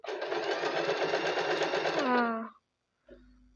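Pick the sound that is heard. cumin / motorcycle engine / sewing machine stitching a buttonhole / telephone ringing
sewing machine stitching a buttonhole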